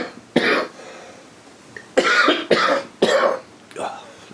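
A person coughs close up, first once and then in a quick run of four harsh, throaty bursts with brief pauses between them.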